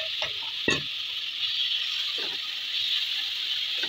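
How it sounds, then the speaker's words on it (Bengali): Marinated chicken pieces sizzle steadily in butter in a frying pan, with a constant hiss and a few clinks and stirring knocks near the start. "এখন সেই মাখানো চিকেনগুলি দিয়ে দিচ্ছি"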